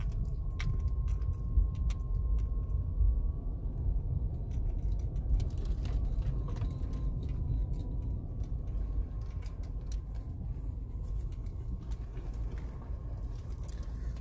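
A 2014 Nissan Sentra X base model with a failing CVT transmission runs with a steady low rumble and a thin, faintly wavering whine. Scattered light ticks and clicks sit on top of the engine noise throughout.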